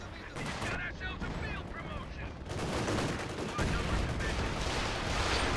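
MG42 machine gun fire in a multiplayer video game match comes as dense, rapid bursts of gunfire mixed with other battle noise, loud and continuous through the scene.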